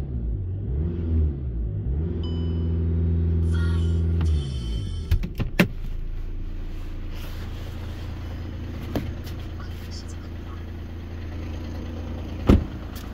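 A 2014 Audi Q3 30 TDI quattro diesel starts with a whirring starter crank, gives a few short throttle blips, then settles into a steady low idle rumble, close and clear with no talk.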